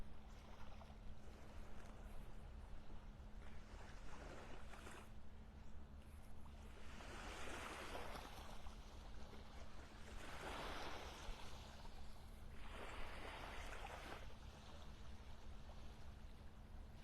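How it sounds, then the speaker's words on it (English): A boat passes on the water off a beach at Delnor-Wiggins in North Naples, a low steady motor rumble carried under swells of surf washing in and out. "I hear a boat"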